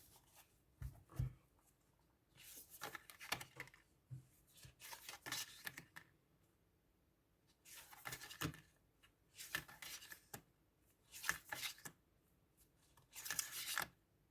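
Repeated bursts of tarot card shuffling, each a quick riffling rustle lasting a second or so, separated by short quiet pauses; close and fairly soft.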